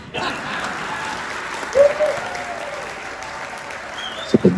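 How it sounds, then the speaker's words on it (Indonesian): Audience clapping at an Indonesian political gathering, fairly loud and continuous with a diffuse crowd wash, a brief vocal sound near the middle and a couple of sharper bursts toward the end. "Tepuk tangannya tidak ikhlas."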